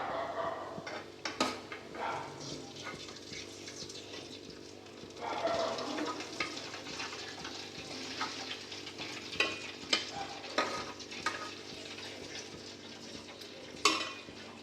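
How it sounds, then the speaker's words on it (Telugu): A spoon stirs gulab jamun gently in sugar syrup in a pot, with soft scraping and clinks at irregular intervals, some louder knocks against the pan, and a faint sizzle behind them. "ఇప్పుడు మనం అలా పక్క నుంచి ఒకసారి లైట్గా కలుపుకొని"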